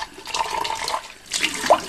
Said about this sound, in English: clean your water pot, clean water in there, rinse the edges